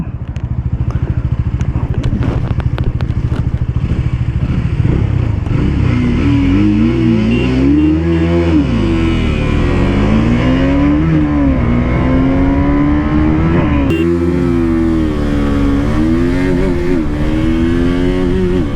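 A 2023 Bajaj Dominar 250 BS6 and a 2023 KTM RC200 accelerate hard, engine pitch climbing through repeated gear changes, loud and continuous with wind rush.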